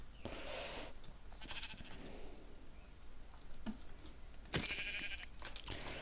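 Minecraft sheep bleats sound a few times over a steady background hum, with short clicks and a sharper burst near the end.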